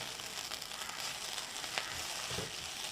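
Chicken with coriander powder sizzles quietly in a pan, a soft continuous frying hiss with a few faint stirring scrapes, close and alone.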